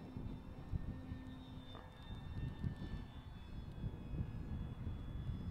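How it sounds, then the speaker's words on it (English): An FMS 1400mm Kingfisher RC model plane flies steadily overhead on a gusty day, its electric motor giving a continuous whine with a faint tonal drone that holds without pause. "This plane's handling it like a champ"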